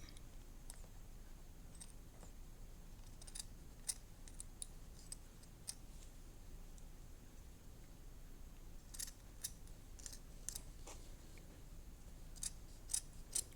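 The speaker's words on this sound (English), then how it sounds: "you may need some help to find scissors that do a good job cutting with felt" Scissors snip through felt being trimmed for a shark-themed oven mitt craft, a scattered series of crisp, close clicks and cuts over a low steady background hum.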